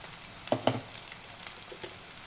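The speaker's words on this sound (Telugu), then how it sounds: "అల్లం వెల్లుల్లి పేస్ట్ వేగిపోయి మంచి సువాసన వస్తుంది" Ginger garlic paste fries in a pan for a bitter gourd and onion fry. Faint, soft sizzling is broken by a couple of sharp pops early on and a few lighter crackles after.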